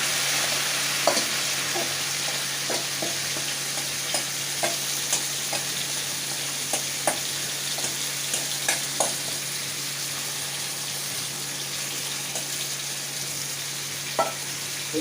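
Mutton pieces fry with onions browned to a deep red in a pan, a steady sizzle underneath while a utensil stirs with scattered soft scraping clicks, close and fairly quiet.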